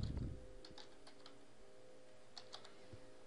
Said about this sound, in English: we're going to go ahead and type that here in our description